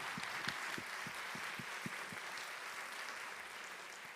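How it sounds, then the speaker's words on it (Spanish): Audience applause at a talk on European recovery funds, a steady, moderately distant patter of many hands, with a few louder rhythmic claps standing out near the start. "Un aplauso"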